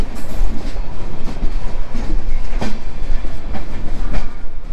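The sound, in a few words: train arriving at Saharanpur station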